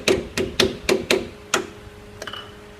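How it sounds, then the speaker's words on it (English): A hammer tapping a metal part into place on a bend die, six sharp, close strikes in an uneven rhythm followed by a couple of fainter knocks. "Just tap it in."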